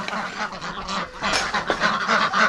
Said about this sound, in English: listen to these ducks